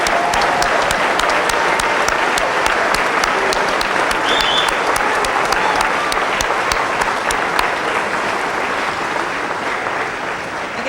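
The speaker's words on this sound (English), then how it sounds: "Give them a round of applause, please." Sustained applause from a large crowd at a 2008 Tampa Fire Rescue honors ceremony, steady dense clapping that fills the whole stretch and fades slightly near the end.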